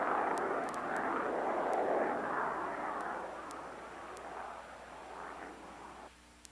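A Harrier vertical takeoff jet roars with a broad, loud engine rush that slowly fades over several seconds before cutting off, with no talking.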